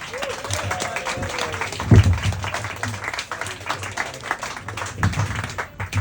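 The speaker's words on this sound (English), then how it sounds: "Come on, put your hands together. Keep that energy going. Come on, give us a clap." Audience applause at a comedy show, a short patch of clapping from a crowd that swells briefly and settles, with a voice speaking over it.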